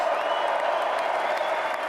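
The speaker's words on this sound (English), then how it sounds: "to hear the crowd roaring when he started signing his signature" Crowd noise from tens of thousands of people at a presidential executive-order signing: roaring and applause, a steady dense wash of clapping and cheering heard at a distance and fairly faint.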